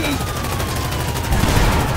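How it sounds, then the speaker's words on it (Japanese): A police car's mounted gatling gun firing in GTA 5, a loud continuous rattling burst of rapid shots that swells in its last half second. "ガトリング付きのパトカーなのに、それでもまだ逃げようとしてる。"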